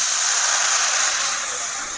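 A steady, loud hiss of steam and sizzling fills the moment as a little water hits hot frying spices in a pan while a pointed gourd curry is cooked, continuous and close with no talking.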